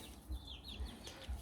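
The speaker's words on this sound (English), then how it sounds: "Now I'm keeping some free range chicken." Free-range chickens cluck softly and repeatedly on a backyard farm, with low rhythmic pulses and faint higher calls at a moderate distance, heard alone without talk.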